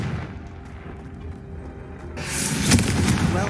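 A Confringo fire spell blast from the game Hogwarts Legacy bursts in abruptly partway through, a loud crackling boom over a low background rumble, with a sharp peak near the end.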